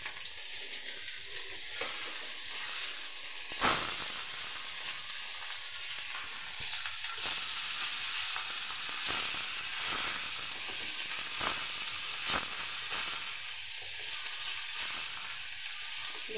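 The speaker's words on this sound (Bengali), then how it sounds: "এখন আমি মাছগুলো উল্টিয়ে দিচ্ছি।" Pieces of katla fish sizzle steadily in a hot pan, a constant bright frying hiss with occasional clinks and scrapes as the pieces are turned over.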